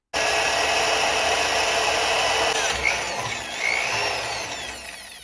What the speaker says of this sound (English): I'm going to go ahead and drill this one out all the way to get a bolt through it